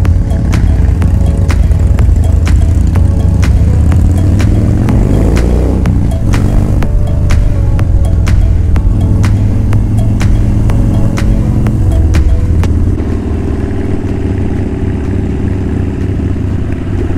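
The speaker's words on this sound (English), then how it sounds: "This bike sounds so mean." Motorcycle engine running loud and close throughout a ride, a steady low rumble with rising and falling revs and faint clatter, slightly easing near the end.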